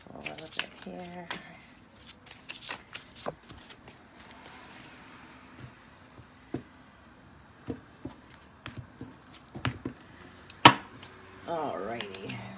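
Tarot cards shuffled by hand in short bursts of soft riffling and flicking, separated by quiet gaps, with a voice speaking intermittently.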